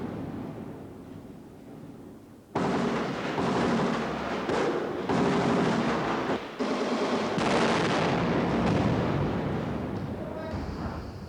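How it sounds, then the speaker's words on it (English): A rocket-propelled grenade round and gunfire erupt in battle during the 1982 Israeli invasion of Lebanon near Beirut. After a quiet opening, a sudden loud blast gives way to a long, roaring wall of close, heavy noise. "Rifle exchanges were replaced by a round from a rocket-propelled grenade."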